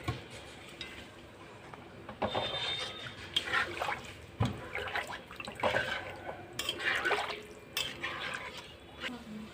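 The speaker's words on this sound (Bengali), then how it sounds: "এবার জল দিয়ে দিচ্ছি।" Water trickles and splashes into a pan of spiced jackfruit-seed dhoka masala, with dripping and light clinks of cookware as a voice talks over it.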